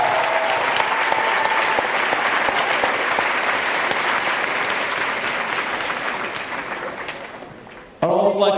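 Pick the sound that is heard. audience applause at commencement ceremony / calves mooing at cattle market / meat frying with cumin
audience applause at commencement ceremony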